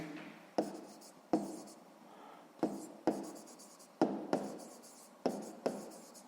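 A pen writes numbers on paper during a sixth-grade maths exercise, giving quiet scratchy strokes broken by sharp taps as the tip lands, in an irregular rhythm close to the microphone.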